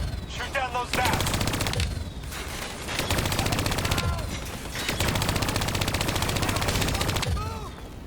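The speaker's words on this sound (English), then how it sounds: "Let's put it back on them and tear them up." Rapid automatic gunfire in the video game Call of Duty: Black Ops 3, loud sustained bursts separated by short pauses, with whooshes and effects between volleys.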